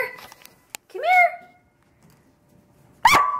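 A pet dog lets out high rising whimpers and a sharp yip, close and fairly loud, in two short bursts separated by near silence, during a playful stay-and-come game at home.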